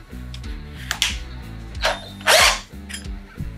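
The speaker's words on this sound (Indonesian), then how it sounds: "Ini menggunakan bor cordless ya, jadi tenaganya tidak terlalu besar untuk yang dihasilkan." A cordless drill bores into wood with a long auger bit, its motor whirring in a low, stepped drone while bursts of chip-scraping rasp flare up several times as the bit cuts through.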